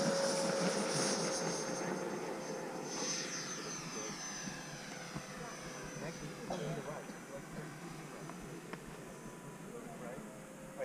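An RC model L-39 jet aircraft taking off, a steady high whine that slowly fades as it moves away, with people talking nearby.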